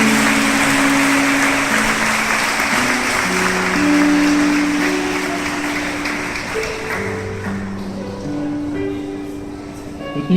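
A congregation applauds in church, a dense steady wash of clapping alongside sustained musical tones, thinning and fading over the last few seconds.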